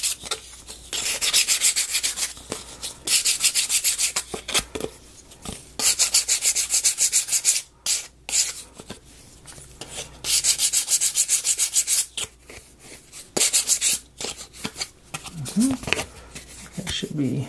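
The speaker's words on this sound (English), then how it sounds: "where'd I put that piece of sandpaper from yesterday?" A small wooden ROKR solar system model piece is rubbed with sandpaper by hand, in close, rasping back-and-forth bursts separated by brief pauses, with a voice speaking in between.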